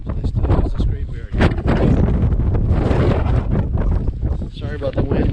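Strong wind buffets the microphone at a graveyard in Ireland in a continuous low roar and rumble, with gusts swelling and easing throughout.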